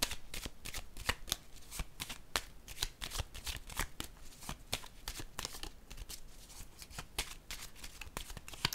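Tarot cards are handled and laid down one after another, a steady run of crisp snaps and light shuffles close to the mic with no voices.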